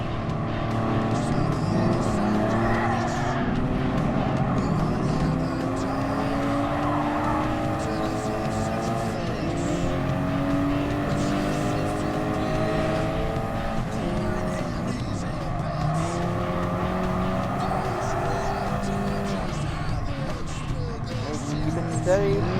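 Race cars roar continuously around a track in Gran Turismo Sport, engines droning and shifting pitch as they pass, steady and loud, with a voice talking over them.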